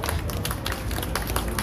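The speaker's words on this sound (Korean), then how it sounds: "발언해주신 김세현 변호사님께 다시 한번 뜨거운 박수 부탁드리겠습니다" A crowd of citizens at an outdoor night rally applauds a lawyer after a speech, with dense, continuous clapping at a steady level and no talk.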